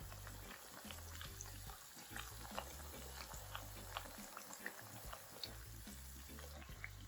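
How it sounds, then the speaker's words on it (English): Ripe plantain slices fry in a pot of hot oil with a steady, close crackling sizzle and small pops throughout, with no talking. "I'm gonna fry it on one side, I'm gonna flip it, fry it on the other side as well."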